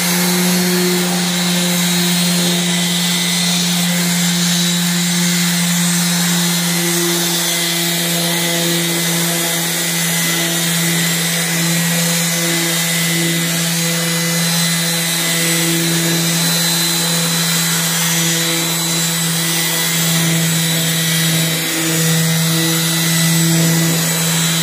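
Rotary polishing machine buffing the hail-damaged hood of a Volkswagen Jetta after light sanding, a steady close whine with a low hum running unbroken throughout.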